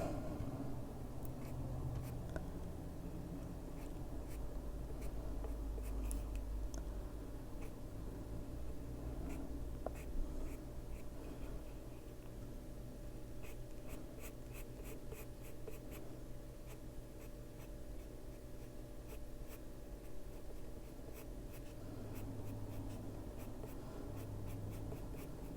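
A colored pencil shades a ladybird coloring page in a soft, continuous scratching with quick repeated strokes, faint and close up, and no voice over it.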